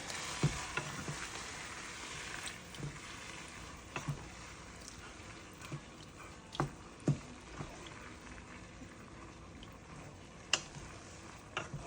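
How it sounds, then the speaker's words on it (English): Jollof rice with herbs on top gets stirred in a pot: soft, quiet scraping and clicking strokes at an uneven pace over a faint low sizzle, with no talking. "I'm gonna give it a good stir"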